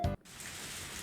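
A steady rain downpour hisses evenly and fills the scene, following a short loud burst at the start, in the visual novel ONE: Kagayaku Kisetsu e.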